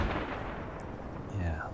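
Distant rumbling gunfire from a U-boat's deck gun hits an enemy ship in the Uboat game, heard as broad, muffled booms over steady low noise with a brief whistling streak near the end.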